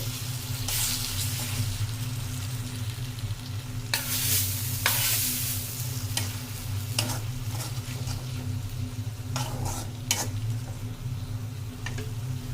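Separately fried panch phoron and dry chillies go into a pan of eggplant curry cooking for achari begun, where a steady sizzle runs under repeated clacks and scrapes of a spoon stirring the mixture, with a faint low hum beneath.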